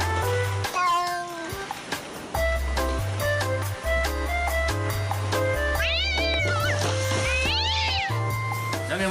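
A cat meows repeatedly, several drawn-out rising and falling cries while it plays with a cornflakes box, sitting over a loud pulsing background beat of music.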